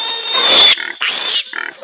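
A piglet on a small farm squeals in loud, piercing bursts, two long shrill cries separated by shorter grunting squeals, close and unaccompanied by talk.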